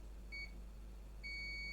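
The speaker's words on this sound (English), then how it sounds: "beep works" Test equipment on a repair bench gives two clean electronic beeps while a PlayStation 4 optical drive is being fixed, a short tone followed by a longer one over a low steady hum.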